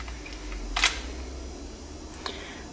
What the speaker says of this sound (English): I'll just cycle the lock a couple of times just so you can see it function